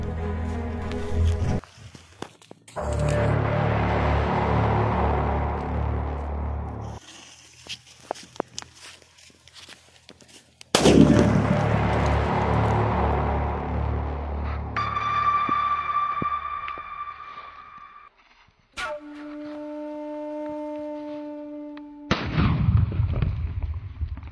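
Sutli bomb firecracker set off under a double plastic box, heard as sharp explosive bangs with crackling debris, separated by quiet gaps and electronic tones.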